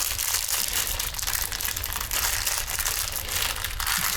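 A plastic packet holding screws for a bird feeder is torn and worked open, giving a steady, close, loud crinkling and crackling that runs without a break and with no voices.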